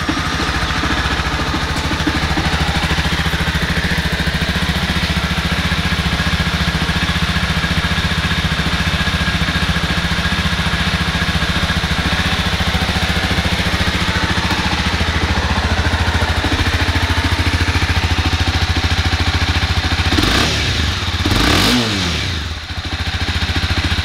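A 2021 Honda CBR300R motorcycle engine running at a steady, close idle for about twenty seconds, with a couple of brief revs and a falling tone near the end, no talking.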